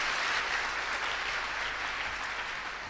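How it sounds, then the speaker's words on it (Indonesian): Steady, dense applause from a seated audience at a business seminar fills the whole stretch, loud and continuous without a break. "Beri aplaus buat istri saya"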